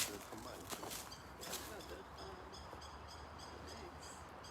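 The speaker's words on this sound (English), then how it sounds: "I hear the birds as well." Morning birdsong outdoors, with soft repeated calls and faint chirps spread across a quiet background, some distant hooting-like notes and a few light rustles, all fairly faint.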